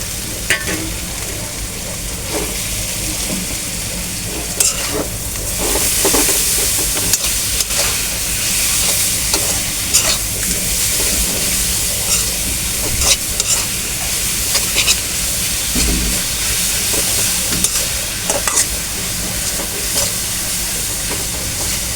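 Boiled helong greens fry with onions in a pan, giving a continuous loud sizzle and steam hiss broken by repeated scraping stirs, with no voices.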